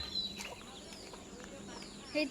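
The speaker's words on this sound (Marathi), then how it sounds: "किती आहेत बा कोंबडीची पिल" Faint, high chirping peeps from baby chicks come in short bursts, with a voice murmuring quietly in the background.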